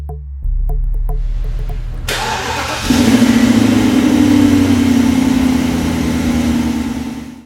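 BMW 550i E60 sport sedan with a 4.8-liter V8, first ticking briefly, then catching and settling into a loud, steady idle with a deep rumble close by.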